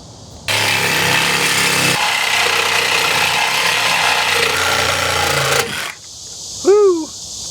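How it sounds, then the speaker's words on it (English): Power saw cutting through a heavy-duty steel trailer tongue, a loud continuous grinding rasp lasting several seconds before stopping abruptly, followed by a brief whoop of a voice. "And that's how you cut through a heavy-duty tongue."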